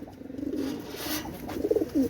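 Oman Teddy pigeons coo in low, throaty murmurs, a close, rolling cooing that swells near the end with a few stronger pulses.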